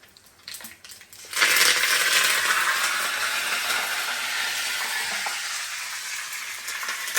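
Mustard seeds and dried red chilli hit hot oil for a dal tempering: after a second of quiet clatter, a sudden loud sizzle bursts out and then crackles on steadily, easing slightly toward the end.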